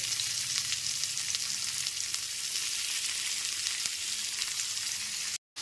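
Chopped onions fry in oil over a medium flame for a chicken kosha, giving a steady, moderately quiet hiss and sizzle with light crackles, cutting out briefly just before the end.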